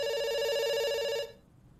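A telephone bell in the video game Dr. Langeskov, The Tiger, and The Terribly Cursed Emerald rings steadily in a bright, electronic tone, then cuts off abruptly, leaving near silence.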